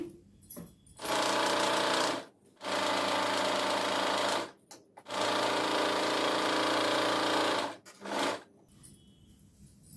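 Sewing machine stitching a blouse sleeve joint, running in three long steady bursts with short pauses between, close and loud with no talking.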